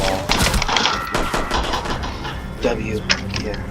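Rapid gunfire from a 3v3 first-person shooter match, fired through a wall at opponents: dense bursts of shots fill the clip near and loud, with a sharp crack near the end, while players talk over it.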